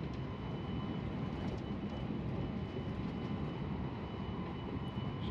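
Constant low rumble and hum inside a moving Shinkansen bullet train cabin in Japan, steady and even throughout with no talking.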